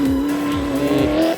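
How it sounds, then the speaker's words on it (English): A rally car drives hard, engine tone rising and falling with a sustained tire squeal, loud and close, no talking. "when it comes to rally car driving."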